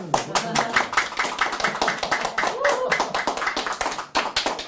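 An audience at a lecture claps in a quick burst of distinct, fairly close handclaps, uneven and lively throughout, with voices mixed in.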